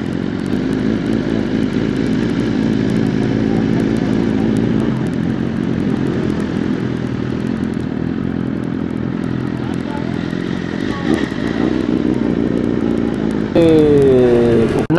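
A BMW S1000RR sport motorcycle being ridden in Malaysia, its engine droning steadily and loudly up close under wind rush. The pitch shifts near the end, and a voice is faintly heard at times.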